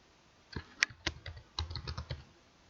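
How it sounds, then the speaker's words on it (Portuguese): Soft, close taps on a computer keyboard come in short irregular bursts, with one sharper keystroke standing out like the Enter key being pressed, all fairly quiet with no talking. "Digitei o segundo, novamente pressiono o Enter."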